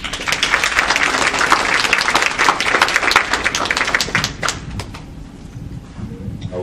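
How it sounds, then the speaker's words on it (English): An audience breaks into a loud round of applause, dense clapping that thins out and fades toward the end. "Round of applause."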